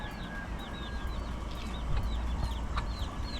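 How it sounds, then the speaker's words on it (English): Chickens eat outdoors with soft, repeated clucks and chirping peeps over a steady background hiss, fairly close and moderately loud. "Fowl them having a feast."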